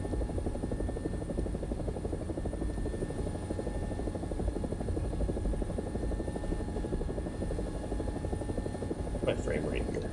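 An AB 205 (Italian UH-1H) helicopter in a video game flies along with a steady, loud rotor thump and engine drone that never lets up, and a few short faint blips come near the end.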